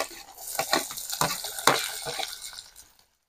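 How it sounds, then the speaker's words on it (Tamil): Chopped onions sautéing in oil for a chicken tikka masala gravy, a steady sizzle under repeated scraping and stirring strokes from a spoon against the pan, close and fairly clear, ending in silence. "எண்ணெயில் விட்டு நல்லா வதக்கி எடுத்து"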